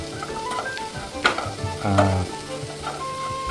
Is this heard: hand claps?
no